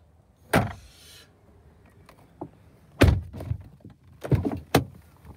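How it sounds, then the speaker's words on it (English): Doors of a Deep Impact Blue Ford Mustang GT being shut, several solid thunks spread across the moment, some in quick succession, with soft clicks and handling noises between them. "Doors close nicely"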